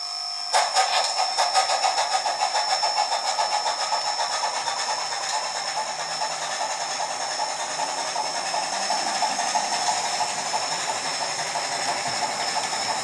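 A model railroad train, with a car the owner built, runs along the track of a home layout. A steady, rattling whir with a faint rhythmic clicking starts abruptly and carries on evenly at close range, with no talk.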